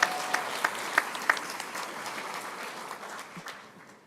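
An audience applauds the judges at an attorney induction ceremony, a dense burst of clapping with a few sharp claps standing out early, gradually fading over several seconds.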